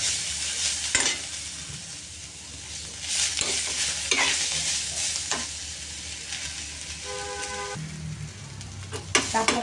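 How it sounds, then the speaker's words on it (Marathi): Chopped onion, coconut and coriander sizzle and crackle as they roast dry in a pan, with a constant hiss broken by scraping stirs of a spatula. "आता ह्याच्यामध्ये आपण चांगली भाजून घेऊया."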